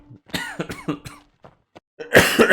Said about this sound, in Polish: Ojejku, ten kaszel mnie tak męczy.